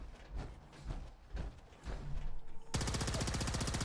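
A plasma pistol fires in Fallout 4's Far Harbor. A few spaced shots come first, then a dense, rapid stream of zapping bursts, loud and close, runs to the end.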